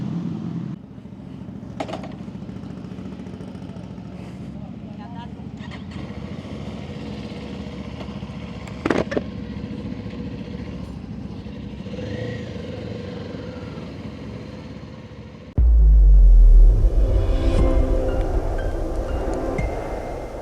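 A 2024 Kawasaki Eliminator 500 SE cruiser motorcycle ridden on the road, a steady engine drone under rushing wind noise, with a louder roaring burst near the end as wind buffets the microphone.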